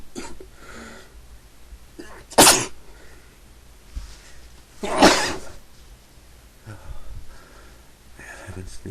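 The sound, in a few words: sneeze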